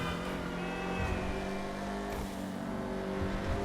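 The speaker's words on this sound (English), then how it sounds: "Wow, this car sounds beautiful. Let's hear it." A sports car engine in the video game GTA 5 Online revs and holds a throaty, steady drone with slight pitch shifts, fairly close, with no voices.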